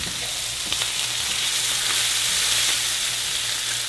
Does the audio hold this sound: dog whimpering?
no